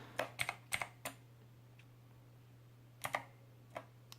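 Sparse key presses on an eSynic T9 Plus backlit one-handed gaming keypad: a few close, crisp clicks in two short clusters separated by a pause, over a steady low hum.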